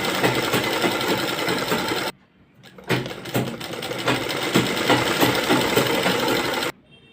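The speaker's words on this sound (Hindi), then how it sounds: "और अब हम इस तरीके से दोनों पार्ट को रख के साइड की सिलाई लगाएंगे।" A sewing machine stitches the side seam of a garment, running in a fast, steady whir, stopping briefly, then running again in a long continuous burst before cutting off.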